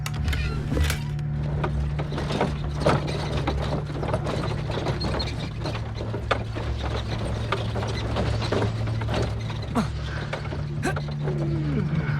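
Mechanical cart machinery in Hogwarts Legacy keeps up a steady ratcheting, gear-like clatter over a constant low hum, with brief voices over it.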